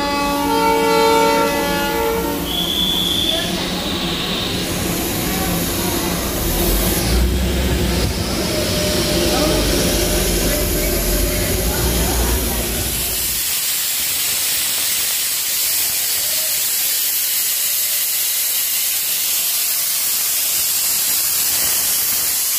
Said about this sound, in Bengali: স্টেশনে ঢুকতে না ঢুকতেই দেখলাম একটা স্টিম ইঞ্জিন ছাড়ছে